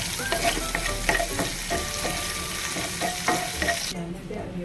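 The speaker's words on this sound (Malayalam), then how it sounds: "വെളിച്ചെണ്ണ ചൂടായി വരുമ്പം നമുക്ക് ഇഞ്ചി വെളുത്തുള്ളി പേസ്റ്റ് ഇട്ട് കൊടുക്കാം" Ginger-garlic paste frying in hot coconut oil in a pan, a loud continuous sizzle with frequent spoon scrapes and stirring knocks, close and without talk.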